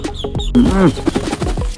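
Chinese geese and ducks on a farm give loud, close honking and quacking calls, several short cries in quick succession with a longer nasal call in the middle.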